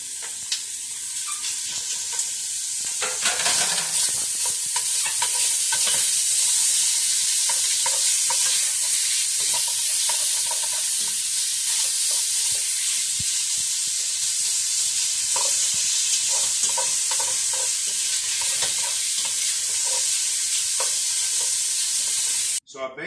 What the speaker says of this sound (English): We're going to get it started by dropping our bacon